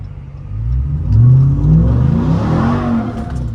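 A 2021 RAM TRX pickup's engine revs hard and close, a loud throaty roar rising and holding through the clip, with no talking over it.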